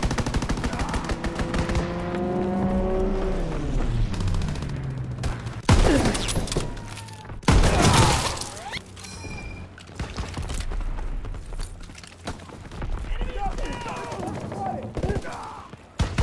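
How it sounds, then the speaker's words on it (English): Gunfire and mechanical clatter from a Call of Duty: WWII battle, with an enemy aircraft strafing run sweeping past in a descending drone and bursts of machine-gun fire, loud and close, followed by scattered shots and impacts. "Enemy strafing run incoming! Get to cover!"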